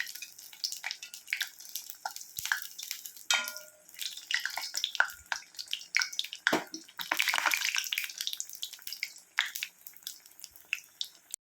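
Sago vada (javvarasi vadai) patties frying in hot oil in a small kadai, a steady bubbling sizzle with sharper crackles and spatters as each piece is dropped in and turned, close and fairly loud, with no talking.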